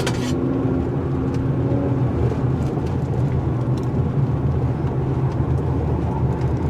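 A 2019 Acura RDX AWD SUV is driven hard around a turning circle, giving a steady, loud engine and road roar heard from inside the cabin with no talking.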